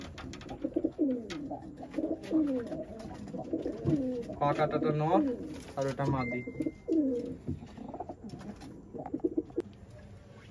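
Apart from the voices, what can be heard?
pigeons cooing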